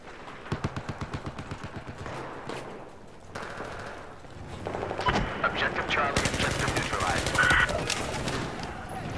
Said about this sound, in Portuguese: F2000! Arma boa também!